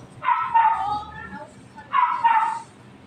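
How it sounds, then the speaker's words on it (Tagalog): A dog barks and yips close by in two short bursts, noisy and insistent, in a workshop setting where a clothes dryer is being repaired. "Makulit yung aso na yan."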